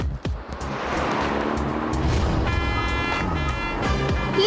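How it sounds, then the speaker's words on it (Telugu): A lorry passes close by with a loud engine roar and rushing noise that swells and holds for several seconds, then a brief horn-like tone, no speech. "లారీ!"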